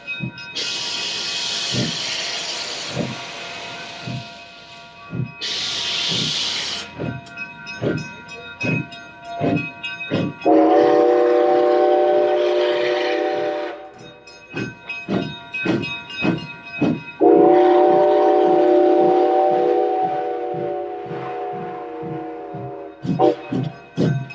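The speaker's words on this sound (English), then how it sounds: "let's enjoy the train going by" A Durango & Silverton railway train passing close by: loud rhythmic clacking of wheels over rail joints, bursts of steam hiss, and two long sustained whistle or horn blasts, with no talking.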